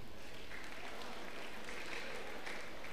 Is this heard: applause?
yes